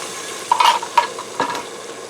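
Beef broth poured into a hot Elechomes 6-quart electric pressure cooker pot, a few sharp sizzling hisses and stirring scrapes in short bursts over a steady background hiss.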